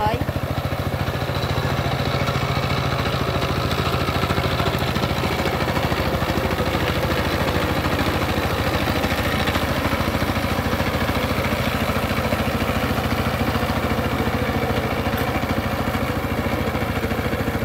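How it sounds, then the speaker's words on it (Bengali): A power tiller's engine chugs steadily while it tills a deep, muddy paddy field, a loud, continuous mid-pitched putter with a fast even beat that runs unbroken the whole time, with faint voices at times. "বেশি কাদাযুক্ত জমিতে পাওয়ার টিলার দিয়ে হাল চাষ হচ্ছে"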